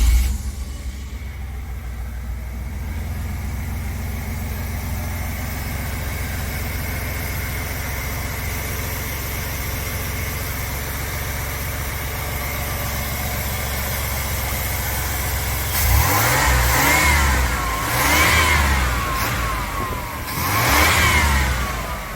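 A 1993 OBS pickup truck engine runs at a steady idle for most of the stretch, then revs up several times in loud, rising bursts near the end.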